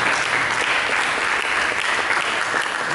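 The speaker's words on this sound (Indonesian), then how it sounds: "Mari kita berikan tepuk tangan yang meriah bagi Yesus." A church congregation claps loudly and steadily during a pastor's sermon. The dense, even applause fills the space without pause and with no voices over it.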